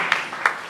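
A worship-service congregation claps and applauds in acclaim, a short dense patter of hands with two sharper bursts standing out.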